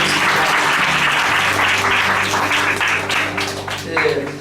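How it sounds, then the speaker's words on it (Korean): Loud, sustained applause from a church congregation during a Sunday service, dense clapping filling the whole stretch with music or voices faintly beneath and a slight swell near the end. "여러분 큰 박수 부탁드리겠습니다"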